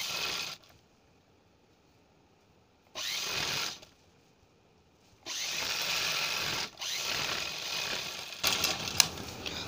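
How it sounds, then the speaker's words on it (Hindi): A foot-pedal sewing machine stitches blouse pieces together in bursts: rapid mechanical whirring runs of a second or two, separated by near silence, and ends with a few clicks. "हम एक पैर का दबाव देते हुए पहले सिलाई लगाएंगे दोनों को एक साथ में अटैच करके"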